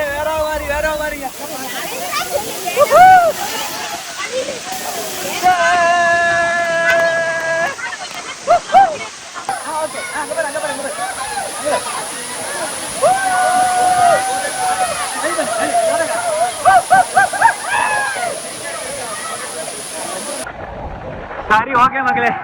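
A large waterfall at Akaya Gangai in the Kolli Hills roars as a steady, loud, broadband rush throughout, with people talking over it close by.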